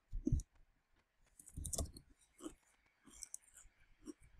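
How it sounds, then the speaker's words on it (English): Crisps being eaten, with quiet, close crunches and clicks in short irregular bursts separated by near-silence, soft and intimate. "I'm eating crisps, but you guys call them chips in America."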